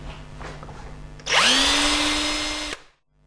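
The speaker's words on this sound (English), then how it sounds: "5mm drill bit. And I'm ready to drill the holes." A power drill fitted with a 5mm bit spins up sharply and runs at a steady, loud whine for about a second and a half while boring holes for soft-close drawer runners, then cuts off abruptly.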